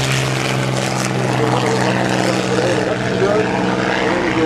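Hawker Hurricane warbird roars past at an airshow, its loud piston engine and propeller drone filling the air continuously with a slightly shifting pitch as it passes, a voice talking faintly underneath.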